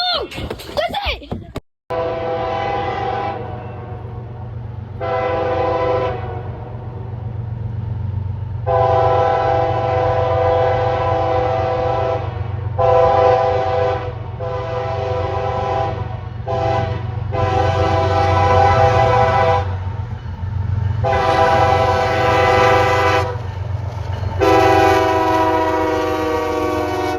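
A freight train led by L&N locomotive 1850 passes close by, its horn sounding in repeated loud blasts over a steady low engine rumble and rolling wagons.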